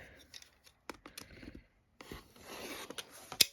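Scissors or a cutter trim excess fabric from a disappearing four-patch quilt block cut on the diagonal, with a few short close snips and rasps separated by brief pauses.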